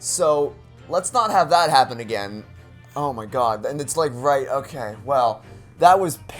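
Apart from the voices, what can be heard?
No everyday noises stand out.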